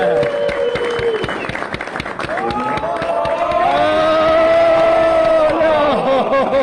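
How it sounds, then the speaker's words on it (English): An audience claps and cheers at a tech talks event, a steady mass of applause with whoops and raised voices rising over it and people talking throughout. "Everybody give a round of applause."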